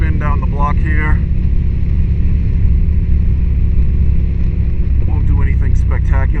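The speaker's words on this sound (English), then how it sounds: "hopefully you can hear me the exhaust and the wind" A motorcycle fitted with a quick shifter rides down the block, its exhaust droning low and steady under rushing wind, with someone talking briefly at the start and again near the end.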